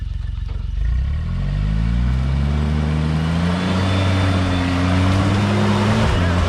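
A Suzuki Jimny engine revs hard at full throttle while off-roading near a breakover, the low drone climbing steadily in pitch over several seconds, loud and close, with faint voices in the background.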